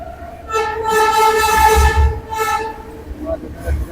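Duronto Express passing Dakshineswar station on the Sealdah to Puri run, its loud horn sounding in long sustained blasts over the rumble and clatter of the moving train, with a brief second honk near the end.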